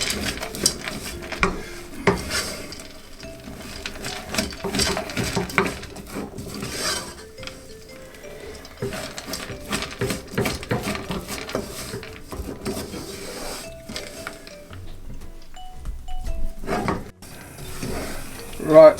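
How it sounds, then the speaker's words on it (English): Peanuts stirred in a pan while making Indian peanut chikki, a busy scraping and clattering of spoon on metal with brief pauses, close and fairly loud, with faint voices now and then. "we've got our nuts in. Just going to stir this in for about a minute."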